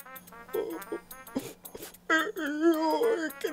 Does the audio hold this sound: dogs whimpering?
yes